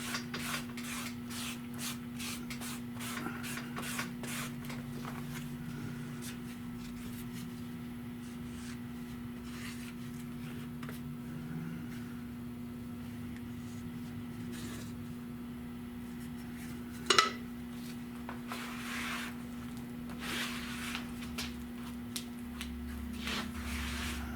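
Auto body filler is worked with a spreader blade during restoration work on a 1975 Century. It makes faint, steady rasping and scraping strokes in a quiet room, with one brief sharper knock and no talking.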